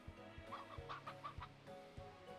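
Chickens cluck repeatedly in the video game Slime Rancher 2, a run of short, mid-loud clucks over a steady game music or ambience bed, with no talking.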